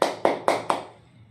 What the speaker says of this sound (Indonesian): Ayo kasih tepuk tangan dulu untuk kelompok 1.